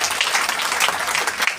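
Loud, dense applause from an indoor audience at a motivational business gathering, a continuous crowd clapping for their guru with no voices over it.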